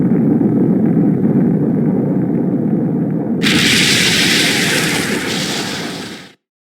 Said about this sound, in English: we'll be caught in the explosion